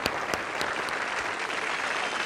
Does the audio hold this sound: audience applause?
yes